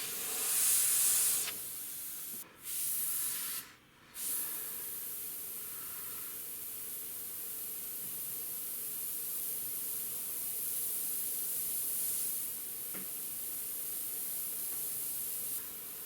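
Airbrush spraying paint onto a Harley front fender, a steady close hiss running almost continuously with a few brief stops as the spray is lifted and restarted.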